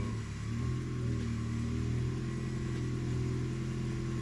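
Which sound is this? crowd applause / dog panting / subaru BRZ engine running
subaru BRZ engine running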